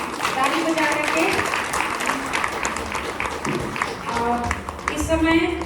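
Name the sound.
congregation applauding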